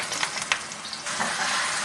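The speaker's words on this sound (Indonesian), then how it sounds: "ini bawang putihnya saya tumis" Garlic sautéing in a pan for a spicy bakso aci mercon broth, a steady close sizzle and crackle of frying with a few sharper pops and stirring scrapes, no voices.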